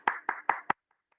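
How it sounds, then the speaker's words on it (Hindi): Four sharp, evenly spaced hand claps, close and clear, greet a Kathak dance guru at an online workshop, then two faint taps follow before silence. "एक बार जोरदार ताली के साथ इनका स्वागत किया जाए।"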